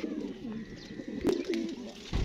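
Pigeons coo in soft, low, rolling calls, close and fairly quiet, with a couple of sharper clicks or flutters in between.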